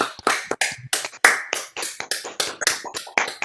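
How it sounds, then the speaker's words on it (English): A run of about a dozen sharp, close claps in a steady rhythm, each crisp and separate, played for an online audience at a virtual live performance, with no talking. "So please join me in clapping loudly"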